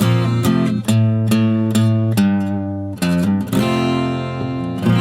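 Acoustic guitar playing the bridge riff of a song, combining both guitar parts, with strummed chords struck in a steady rhythmic pattern and ringing sustain between hits, loud and close with no talking.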